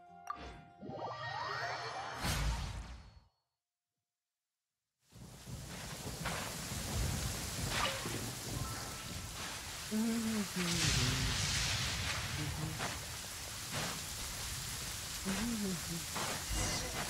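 Steady rain hisses after a short silence in the video game Genshin Impact, with low rumbles and a few chiming game sounds layered over the downpour.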